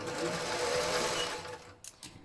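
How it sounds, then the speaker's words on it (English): A sewing machine runs steadily, stitching around the bottom of a vinyl zipper pouch, then stops and gives a couple of short final bursts up close. "I'm just going to finish around the bottom of this pouch with with this sewing machine"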